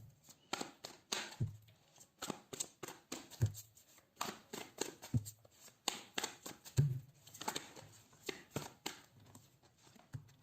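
Tarot cards being shuffled and pulled, with uneven papery riffles, taps and slides that come in close, irregular bursts throughout with no talking.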